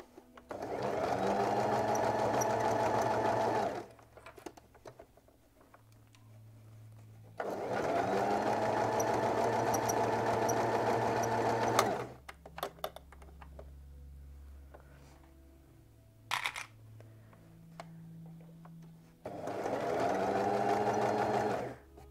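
A sewing machine stitches fabric for a home-sewn garment in three long steady runs of fast whirring, with quieter pauses between them holding small handling clicks and faint background hum.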